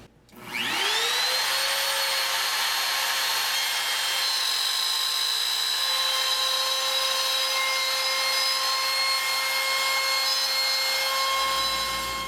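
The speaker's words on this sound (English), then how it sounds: "I want the bit to force the router towards the fence so that it doesn't climb away and into my good material." A handheld router cuts wood while guided against a fence in a furniture workshop, giving a loud, steady whine that runs unbroken for several seconds after a quick spin-up.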